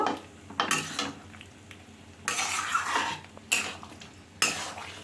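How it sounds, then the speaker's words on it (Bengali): Fried prawns are stirred into a potato and ridge gourd curry: four loud bursts of spoon-against-pan scraping, separated by quieter stretches of low bubbling. "দিয়ে এটা ভালো করে মিশিয়ে নেব"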